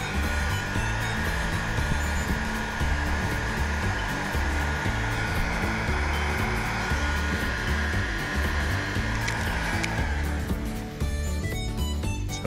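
Heat gun blowing on heat shrink tubing over a crimped wire, a loud, steady close-up whooshing hum that runs continuously and shifts slightly near the end.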